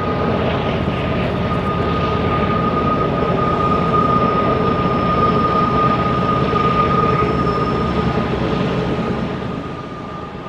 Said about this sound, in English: This train heading eastbound, after entering the first spiral tunnel, it begins to climb approximately 50 feet